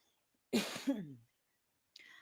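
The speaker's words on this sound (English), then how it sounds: "sorry, I got a cough." A single short, raspy cough up close, followed by a faint breathy sound.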